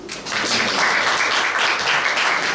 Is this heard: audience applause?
yes